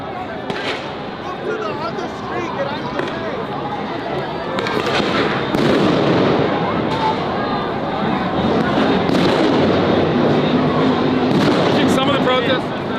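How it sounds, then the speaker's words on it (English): Loud bangs and sharp blasts from flashbang grenades at a street protest, several going off over a steady crowd roar, with people talking throughout. "Flashbangs are just like Call of Duty."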